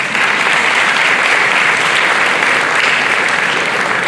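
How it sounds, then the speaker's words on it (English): Dense, loud audience applause fills a graduation ceremony hall, steady and continuous from start to finish. "Please let's applaud them."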